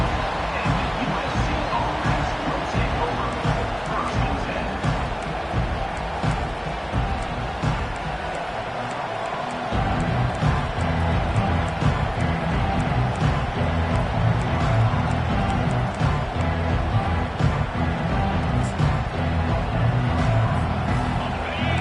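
USC vs Ohio State football stadium crowd roaring, a dense sustained wall of cheering that swells louder partway through, under a commentator's voice.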